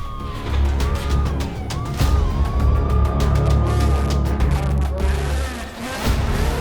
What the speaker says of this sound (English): But I hear sirens, so the police should be here soon.